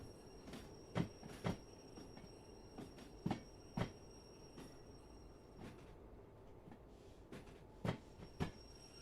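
A fairly large freight train in the Derail Valley simulator slows under light braking. A steady low rolling rumble carries a faint high metallic whine and repeated sharp clanks at irregular intervals.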